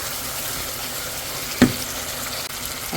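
Spice paste with ginger-garlic and plenty of crushed garlic sautéing for a dried-fish dish, giving a steady close sizzle with one brief clatter of stirring partway through.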